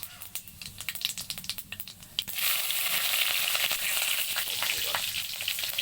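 Cumin seeds and bay leaf dropped into hot oil for a Bengali egg, potato and cauliflower curry: crackling pops at first, then a sudden, steady loud sizzle, close and continuous.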